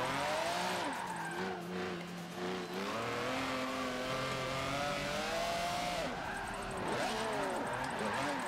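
A heavy car drifting in the racing game Forza Motorsport 7, engine revving and wailing up and down continuously with tire squeal, loud and steady through the whole stretch.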